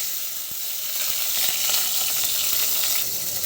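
Browned onions sizzle loudly in a pan after water is added, a dense continuous hiss with a few faint clicks of stirring and no talking.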